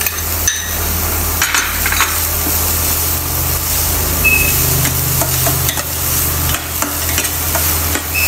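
Lemongrass stir-fried in a hot pan while preparing caramelized pork with shrimp paste, a steady close sizzle with scraping stirs and occasional clatters, no talking over it.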